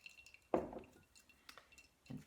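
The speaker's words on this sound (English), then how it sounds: "Get a little more cold water to rinse it. Push out the soap." Soapy wet felt squeezed with cold rinse water, giving a faint, close squelch and drip, then a few soft wet squishes and a final small squeeze.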